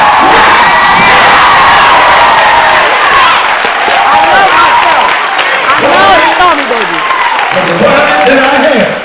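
A loud, dense crowd at an inspirational gathering claps and cheers continuously, with shouts and whoops rising out of the noise.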